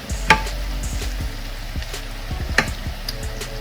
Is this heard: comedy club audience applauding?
no